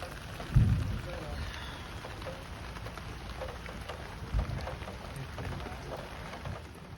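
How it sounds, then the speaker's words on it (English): Heavy rain falls steadily on an outdoor antique fair, a constant hiss with low rumbles and occasional thuds. "And this was day 2 of the fair and day 2 of heavy, heavy rains."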